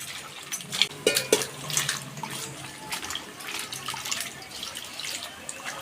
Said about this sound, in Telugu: మళ్ళా వాటర్ వేస్తున్నాము.